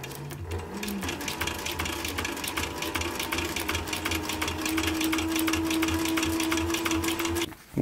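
Sewing machine stitching fabric for a short brim cap, a fast steady mechanical whir and rapid needle clatter running nearly without pause, close and even, then stopping abruptly at the end.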